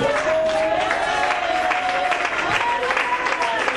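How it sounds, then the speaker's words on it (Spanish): Church congregation applauding during a sermon, steady dense clapping mixed with crowd noise and a sustained voice or tone running through it, fairly loud throughout. "Dale un aplauso ahora"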